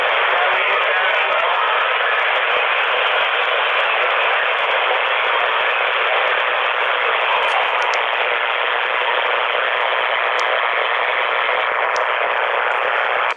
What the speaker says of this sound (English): I still have a really high static level out here